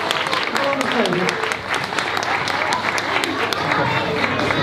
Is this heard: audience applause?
yes